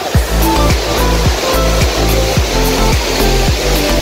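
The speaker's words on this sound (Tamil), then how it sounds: "இதுதாங்க முதன்மை நீர்வீழ்ச்சி." The main waterfall at Hogenakkal roars as a loud, dense, unbroken rush of heavy water, with low rhythmic thumps repeating under the steady noise.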